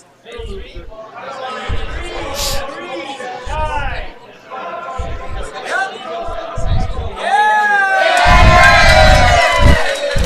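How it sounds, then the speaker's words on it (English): A crowd at a curling bonspiel cheers and shouts after a 50-50 draw announcement, starting in bursts and swelling into loud, sustained cheering toward the end, mixed with chatter and voices. "If you heard that cheering."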